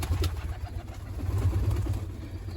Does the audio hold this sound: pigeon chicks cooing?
yes